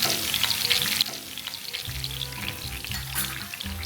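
Chopped green chilies hiss and spit in hot oil in a pan, a dense close sizzle that is loudest at first and then settles into a steadier crackle with soft low bubbling.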